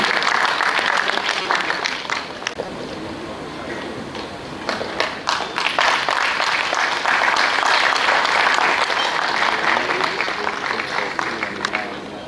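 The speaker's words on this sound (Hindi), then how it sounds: "एक बार जोरदार तालियां हमारे मुख्य अतिथि के लिए।" An auditorium crowd at a Karma dance drama festival in Bhilai bursts into loud, sustained applause for the chief guest, with a brief dip before the clapping swells again, voices faintly underneath.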